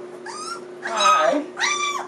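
A puppy makes three close whimpering, growly bursts, whining up and down in pitch over a faint steady hum.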